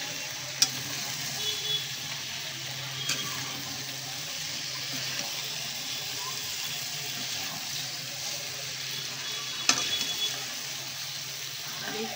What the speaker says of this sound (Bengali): এরকম চিকেন একে একে অ্যাড করে দিলাম। ভালো করে নাড়াচাড়া করবেন।